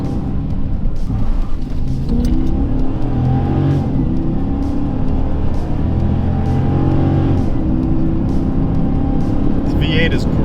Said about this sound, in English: I'm enjoying this V8.